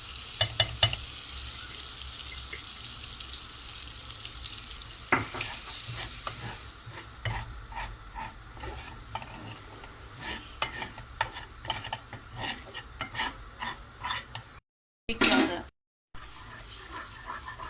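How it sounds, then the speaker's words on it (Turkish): Flour roasting in melted margarine in a pot for creamy mushroom soup: a soft continuous sizzle with frequent spoon scrapes and stirring taps, fairly quiet and close, with a brief cut near the end. "3 yemek kaşığı unumuzu ilave edeceğiz. Kokusu çıkana kadar kavuracağız."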